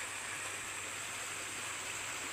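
A mountain stream runs steadily in a continuous broadband rush of flowing water, close and even throughout, with no voices.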